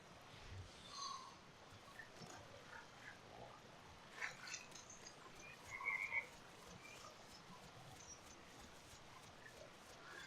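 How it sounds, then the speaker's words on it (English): Frogs croaking as ambient background in the dinosaur survival video game The Isle, a faint continuous chorus of soft croaks under a low outdoor wash, with a few slightly louder calls. "it sounds like the frog noises are just background sounds"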